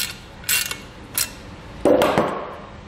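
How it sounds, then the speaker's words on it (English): Nut on a Buyers Products van ladder rack for a 2015 Chevrolet Express being snugged with a 19 mm socket and ratchet: two brief metallic clicks, then a longer, louder grinding ratchet pass, all close and without talk. "if you have handy a 19 millimeter socket and ratchet, we can go ahead and just snug this up a little bit"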